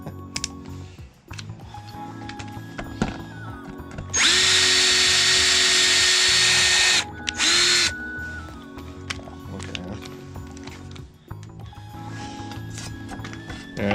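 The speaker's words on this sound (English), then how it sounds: "So the next stage is we're going to drill our holes." Drilling holes in metal for a CB radio setup: a loud, steady electric drill whine runs about three seconds, stops briefly, then gives a short final burst, with light clicking and handling noise before and after.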